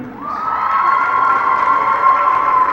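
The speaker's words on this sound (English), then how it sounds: "Big cheer from the home team crowd as the Spartans are about to be announced." The home crowd cheers loudly and continuously at a high school basketball game, Waterbury Career Academy against Oxford, filling the gym with a sustained roar of voices.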